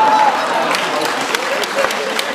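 At a magic show, the audience claps in a full, continuous round of applause while someone talks over it.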